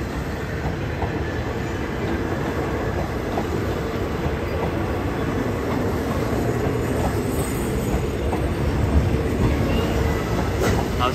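A train runs through Bang Sue Junction station in Bangkok, Thailand, producing a continuous loud rail rumble with metallic wheel screech and rhythmic clatter, steady throughout and close by.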